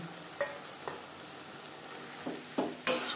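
Raw chicken for momo filling is stirred in a hot pan on a high gas flame: a soft, steady sizzle with a few light scrapes and clinks of the utensil at irregular intervals, close by.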